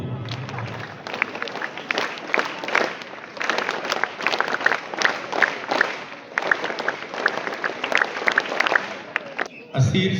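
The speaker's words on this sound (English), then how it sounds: "Claps go." An audience of students claps at a school assembly badge ceremony, sustained crowd applause of many hands filling the room for several seconds, ending abruptly.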